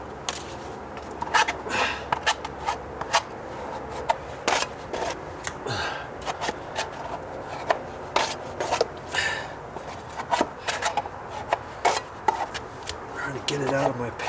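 A knife scraping stiff skim coat compound out of a pan during deck stair dry rot repair, with irregular sharp scrapes and knocks in bursts, close up, amid quiet handling noise.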